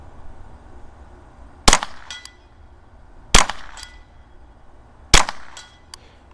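Three sharp rimfire rifle shots ring out at roughly even intervals, each loud and close with a short echo tail, fired while testing a precision rimfire scope outdoors.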